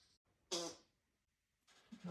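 An African grey parrot mimics a fart: one loud, close, brassy burst, followed by quieter low chirps and rustling, with no talking.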